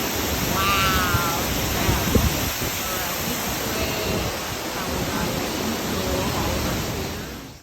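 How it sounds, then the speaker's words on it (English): A waterfall in Iceland, heard from the walkway behind the falling water, pours as a constant, dense rushing roar close by. A brief higher cry rises early above the wash. "And here we are behind the waterfall."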